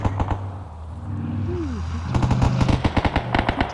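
Machine gun firing tracer rounds in the video game ArmA 3, with one burst up front, then a dense run of rapid, loud automatic shots toward the end.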